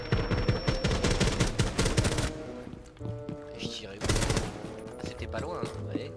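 Rapid gunfire bursts from Rainbow Six Siege, fired through a wall, loud and dense in the first couple of seconds, then more scattered shots and bursts with game effects, no talking.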